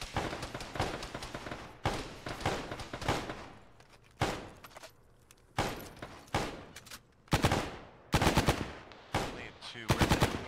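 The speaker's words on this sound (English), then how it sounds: "We're taking some sporadic fire from the bunker out of the field." Machine-gun bursts in the video game Arma come from a bunker out in a field, loud rattling volleys separated by short pauses across the clip, with occasional voices faintly underneath.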